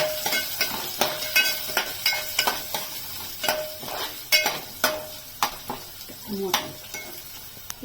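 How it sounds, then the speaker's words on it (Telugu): Mustard seeds, curry leaves, green chillies and onions fry in a pan for wheat rava upma. A steady sizzle runs under repeated rhythmic scrapes and clinks of stirring against the pan. "ఆవాలు, కొద్దిగా కరివేపాకు, పచ్చిమిరపకాయలు, వేసేసి ఉల్లిపాయలు వేసుకోవాలమ్మా"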